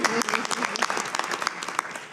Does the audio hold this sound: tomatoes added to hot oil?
no